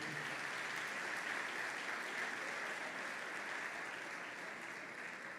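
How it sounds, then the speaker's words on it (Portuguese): Sustained applause from a church congregation praising God, an even, continuous roar of many hands clapping at a distance with no pauses, fairly faint overall. "Pode aplaudir o Senhor."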